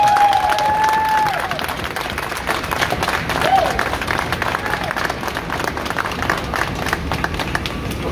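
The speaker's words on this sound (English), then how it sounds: "How about a big round of applause?" A sustained round of applause from a gathered audience, steady, dense clapping mixed with crowd noise and a brief whistle near the start.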